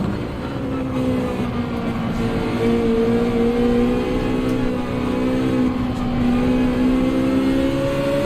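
A Ferrari race car's engine in Gran Turismo drones loud and steady, its pitch climbing slowly as it accelerates, with a second tone sliding alongside, continuous throughout with no talk.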